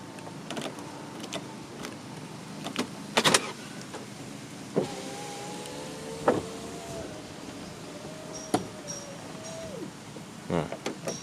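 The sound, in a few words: BMW E36 power windows closing automatically when locked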